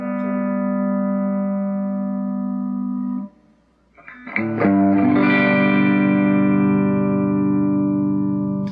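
Electric guitar through a Marshall-style Gemtone Jr amp with effects: sustained, layered chords ring out, stop for a brief gap, then a new bright, distorted chord swells and rings on.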